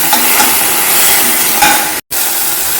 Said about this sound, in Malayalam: ഒരു വെളുത്തുള്ളി ഇട്ട് വഴറ്റിയെടുക്കാം